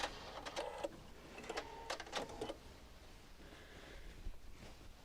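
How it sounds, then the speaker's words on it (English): A sewing machine runs in several short bursts, stitching a quilt border down onto green fabric for a Lone Star quilt with a mitered border, each run a few seconds apart against a quiet room. "I'm going to sew all the way down onto the green fabric off the border"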